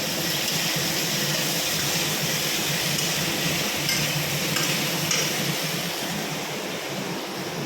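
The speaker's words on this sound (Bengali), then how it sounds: "এখন আলু ভাজা হচ্ছে" Potatoes frying in a pan, a loud, steady, hissing sizzle that stays constant throughout, close and unbroken, with no speech over it.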